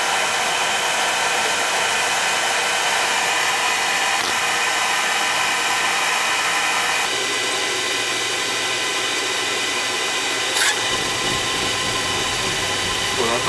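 An oil burner fed from a tank runs with a steady, loud roaring hiss that holds level throughout, its tone shifting slightly partway through.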